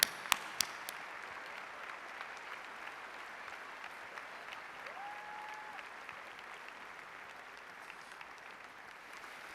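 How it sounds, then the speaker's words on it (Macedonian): Sustained audience applause at the Zlatna Bubamara 2020 ceremony honoring Timot Noho, a steady dense clapping wash with a few sharp nearby claps at the start, continuing evenly throughout. "ve molim jedan aplauz za Timot Noho"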